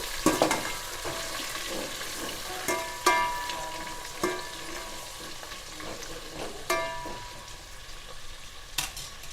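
Tomato, green chilli, carrot and potato fry in a pan for vegetable biryani, a soft steady sizzle broken by repeated clinks and scrapes of a spoon stirring the vegetables, close and moderately loud, with no talking.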